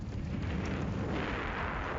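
A volcanic eruption explosion as tectonic plates collide, heard as a continuous loud, deep rumbling roar with dense low-end booming that holds steady for the full two seconds without pause.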